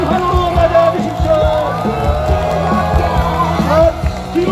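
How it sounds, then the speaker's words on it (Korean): Large crowd at a Korean election campaign rally in Siheung, cheering and yelling loudly and continuously, with chanting voices and shouts rising over a dense roar. "여러분, 무명수를 뜨거운 환호로 맞아주십시오"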